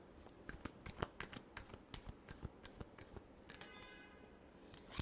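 Tarot cards being shuffled by hand, a quiet run of soft papery riffles and flicks in an uneven rhythm, with a few sharper snaps near the end.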